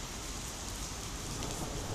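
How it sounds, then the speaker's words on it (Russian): Heavy rain from a supercell thunderstorm over Gorky Park in Moscow pours down in a dense, continuous hiss close by, with no distinct thunderclap standing out. "Гром. Гремит."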